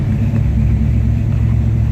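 A 1973 Dodge Dart V8 with a six-pack setup runs steadily close by, a loud, deep, continuous engine rumble with no clear revving.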